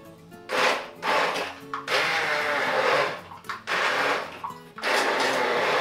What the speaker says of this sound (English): I'm going to use my immersion blender.